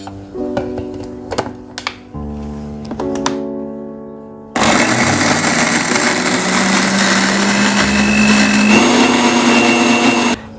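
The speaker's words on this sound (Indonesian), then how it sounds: "Saya akan masukkan dalam blendernya dan untuk dihaluskan." A kitchen blender grinds chopped shallots and garlic into spice paste for lontong balap Surabaya, starting with a few clicks and bumps, then roaring loud and steady for several seconds.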